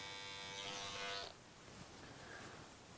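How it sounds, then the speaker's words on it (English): Electric clippers buzz steadily up close while shaving a sideburn outline and cleaning fuzz from a man's face during a short clipper-cut haircut, the hum changing pitch as the blade pulls away about halfway through. "And shave up to it, and clean the fuzz off the face."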